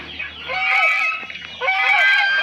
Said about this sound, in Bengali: তো এই রাজহাঁস